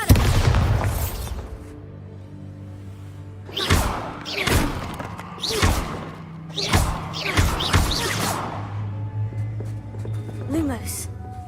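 Bombarda blasting spell from the Hogwarts Legacy video game, a series of deep booming thuds in close succession, each a sharp heavy impact that rolls off, over a low sustained game background with a voice heard early on.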